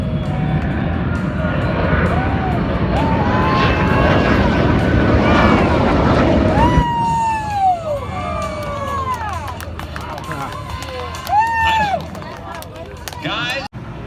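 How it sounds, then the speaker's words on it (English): A jet engine at an air race in Roswell rises into a loud, swelling roar, with a crowd cheering and calling over it; the roar then fades as whistling tones sweep across. "Bill Brock throttles up that jet engine."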